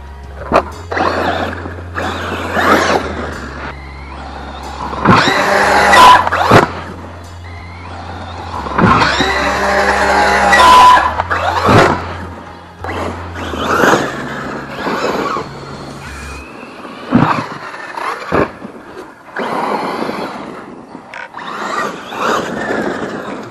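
An ARRMA Fire Team RC truck drives and jumps, its electric motor whining in bursts with sharp thwacks of landings and tire scuffs, loud and close, with pauses between runs.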